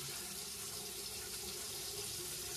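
A tap runs with a steady, even rush of water into a sink for face washing, unbroken and fairly close.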